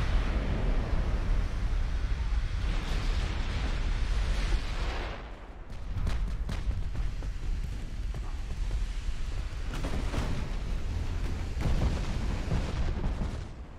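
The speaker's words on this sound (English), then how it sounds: "Ammo detonation." Ammunition detonates aboard a battleship in Ultimate Admiral: Dreadnoughts, with loud rolling naval explosions and heavy gunfire booming continuously, a brief lull, then more blasts and rumble.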